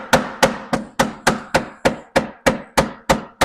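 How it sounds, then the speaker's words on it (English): Twelve sharp, evenly spaced metal-on-wood hammer blows driving a bushing into a Munster ski, close and loud, striking at a steady quick rhythm with no talking. "you try and hammer it home"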